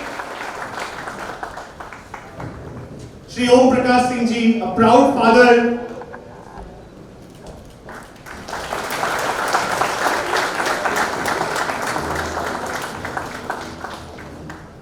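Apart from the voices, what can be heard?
applause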